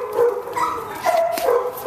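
A puppy gives a few high yips and whimpering squeals close by, in short bursts over about two seconds.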